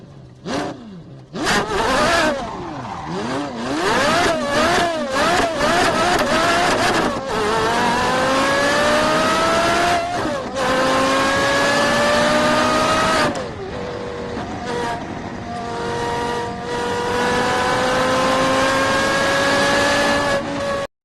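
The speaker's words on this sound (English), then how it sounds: "Just look at this guy driving a Porsche like he's playing Forza Horizon." A Porsche sports car races through city streets, its engine revving hard with rising and falling whines and rapid gear shifts, loud and continuous, then holding a high sustained drone.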